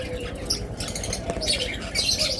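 Pet birds at a shop, budgerigars, cockatiels, lovebirds and blue forpus parrots, chirping and twittering in quick, overlapping bursts, with some wing flutter, fairly close and moderately loud.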